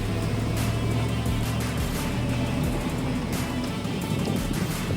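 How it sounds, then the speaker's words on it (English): Cars braking and accelerating on a hill during a race tour at a wharf in Bella Coola, B.C., a continuous close engine roar with shifting pitch and no talk. "Heavy braking and acceleration going on."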